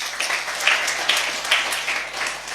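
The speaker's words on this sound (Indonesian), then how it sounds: "Tepuk tangan untuk Tuhan." A church congregation applauds after a sermon, a brief burst of scattered, mid-loud clapping lasting a couple of seconds in an indoor hall.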